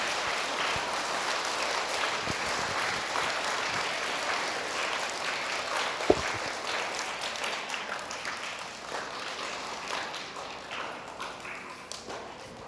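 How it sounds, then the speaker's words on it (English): Applause fills a school student-of-the-month ceremony as honored elementary students take their seats, a steady broadband wash of clapping over about twelve seconds, with one sharp thump midway and a few voices faintly underneath. "Can you give one more round of applause as they sit down?"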